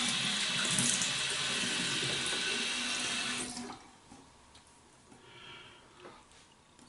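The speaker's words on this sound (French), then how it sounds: "Je vais aller rincer ma figure puis on commence." Tap water streams steadily into a sink while a face is rinsed during a traditional wet shave, running loud and close, then cutting off to faint splashes and drips.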